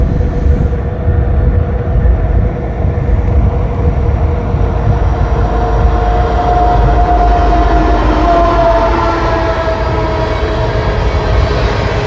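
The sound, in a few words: train passing by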